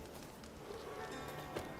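Horse hooves clop in quick succession in The Witcher 3, soft and fairly faint, with a rhythmic running gait under quiet game ambience.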